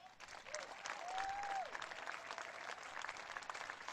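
A convention crowd applauding a speech, a steady wash of clapping heard faint and distant, with a brief whistle early on.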